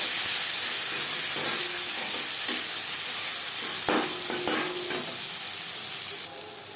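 Chopped onion and tomato fry in oil with cumin seeds and bay leaf for a Katla fish curry, making a loud, hissing sizzle with stirring scrapes partway through before it eases near the end.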